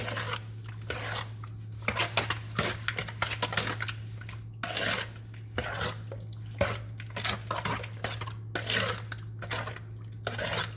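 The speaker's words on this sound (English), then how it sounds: "I'm gonna stir this." A utensil scrapes and clinks against a bowl in irregular strokes as peach cobbler batter is stirred, over a low steady hum.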